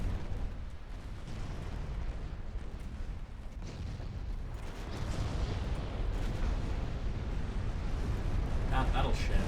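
Naval artillery salvos in Ultimate Admiral Dreadnoughts strike a battleship, heard as low rumbling booms and bursts under continuous game background noise, with the roar swelling toward the end.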